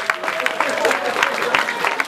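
Audience at a speakers' club debate on gender politics clapping in a dense, continuous wash over the whole moment, with crowd murmur and voices mixed in underneath.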